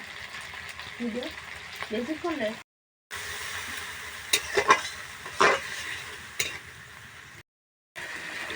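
Spice paste is stir-fried in a pan with a little water and oil, a soft sizzle broken by a few scraping stirs, with a voice talking over it near the start.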